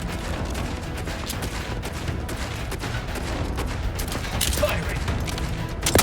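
Sustained gunfire in The Outer Worlds 2, a dense rattle of shots blended with battle noise and voices, growing a little louder toward the end.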